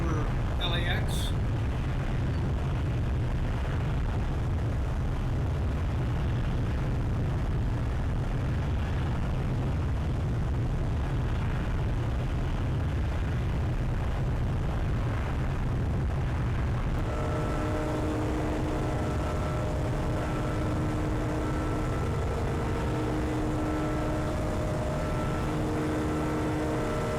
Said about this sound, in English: Big airplane.